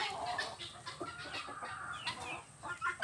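Free-range backyard chickens cluck and murmur nearby in a quiet yard, a loose run of soft repeated clucks and calls with no voices over them.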